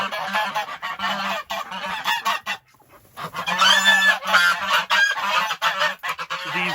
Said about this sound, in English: These geese are getting a little bit antsy.